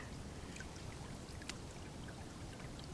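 A clear freshwater stream flows near a bushcraft camp, a faint, steady watery wash with soft trickling and no voices.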